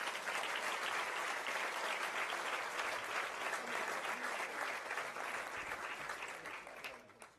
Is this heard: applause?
yes